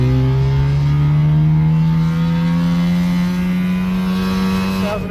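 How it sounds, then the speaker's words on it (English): A two-stroke vehicle on an open road accelerates through the gears, its engine whine climbing steadily in pitch, loud and close, with no talking. "So we're going to rip through the gears."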